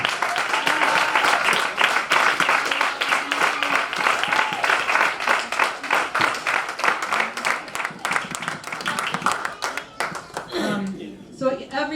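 Guests at a graduation dinner give a round of applause, steady crowded clapping that carries on for several seconds before thinning into scattered claps and talk near the end.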